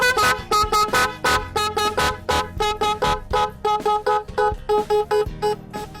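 An echo car horn relay module wired to a battery plays a rapid melodic sequence of loud, pulsing horn tones, clear and close with no voices.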